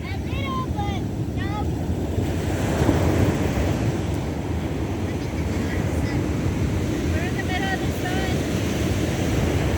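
Ocean waves wash onto a beach at Fort Ord, a steady roaring surf under heavy wind buffeting the microphone, with high bird-like chirps and faint voices drifting in.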